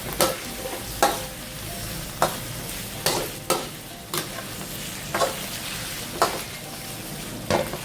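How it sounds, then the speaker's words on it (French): Chicken fries in red curry paste under a constant sizzle, with a utensil scraping and clacking against the pan roughly once a second as the pieces are stirred. "Après moins de 30 secondes, ajoutez le poulet. Bien mélanger, que ça soit à peu près homogène."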